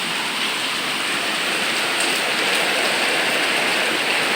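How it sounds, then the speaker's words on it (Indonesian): Heavy tropical downpour drumming steadily on surfaces, a dense, loud, unbroken hiss from start to finish with no voices. "hujannya deras guys, hujan terus tiap hari"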